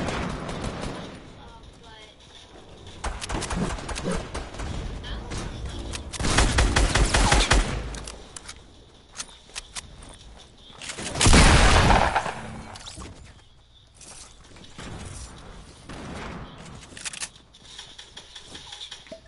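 Video game gunfire from a newly added gun, coming as repeated rapid bursts and a couple of long, loud volleys over game effects, with a player talking in between.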